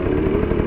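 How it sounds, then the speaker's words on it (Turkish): A Gas Gas EC 250 enduro motorcycle on an offroad trail, a brief, loud, close engine drone with a steady low hum and some clatter. "Motoru diğer tarafa atıyorum sana."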